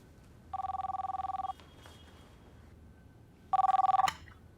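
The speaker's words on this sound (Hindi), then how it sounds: "फोन।" A telephone rings indoors in a domestic drama scene: two bursts of electronic trilling ring, each about a second long, separated by a quiet gap, moderately loud against a low background hum.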